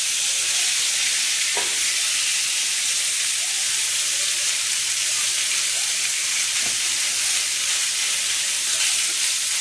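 Steak sizzles on a grill with a loud, steady, bright hiss and a couple of faint ticks and pops, with no one speaking.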